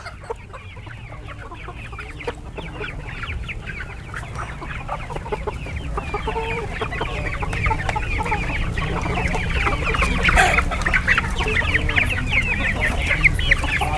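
Fancy hens and roosters kept in a coop setup at Memon Goth, Malir, Karachi cluck and chatter continuously, with several birds overlapping close by, the flock growing busier and louder toward the end.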